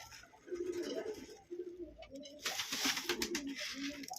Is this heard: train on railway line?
no